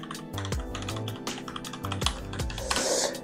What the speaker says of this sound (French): Voilà, pour les fans de bruit de clavier,